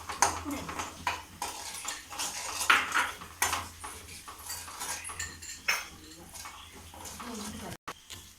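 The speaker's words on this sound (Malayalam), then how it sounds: "ഇളക്കി കൊടുക്കാം. ഇതൊന്ന് മൂത്ത് വന്നവരെ" Chilli powder is stirred through a passion fruit pickle base in a pan, with repeated close metallic scrapes and clinks of a spoon over a soft sizzle, while someone talks quietly.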